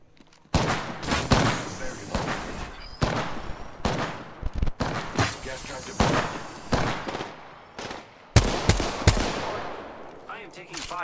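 Video game gunfire in a battle royale match: repeated bursts of automatic fire and sharp shots crack close and loud in uneven volleys, with a voice faintly present between them.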